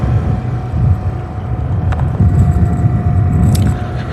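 Steady low engine rumble and road noise from inside a car moving at 1 a.m., with a few faint jingles and rattles over the drone.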